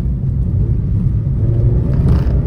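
A Mazda MX-5 RF engine rumbles loud and close inside a tunnel, a deep steady roar with a slight rise in pitch near the end, the sound enclosed and boomy.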